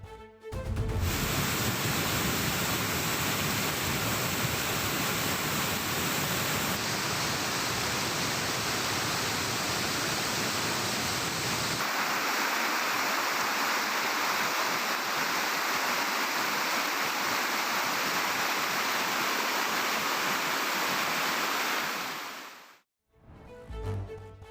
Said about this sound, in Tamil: தென்காசி மாவட்டம் சங்கரன் கோவில், நரிப்பாறை, தீர்த்தப்பாறை அருவிகளில் பாய்ந்தோடும் தண்ணீர்